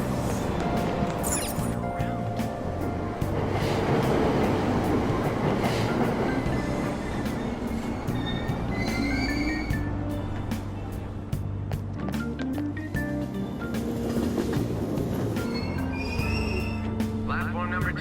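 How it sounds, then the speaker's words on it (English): A train departs a subway platform at Aoyama-Itchome station in the video game Persona 5 Royal, on a service bound for Asakusa: a steady, loud rolling rumble with clattering wheels and brief squeals, under a voice throughout. "Platform number 2, service to Asakusa is departing soon."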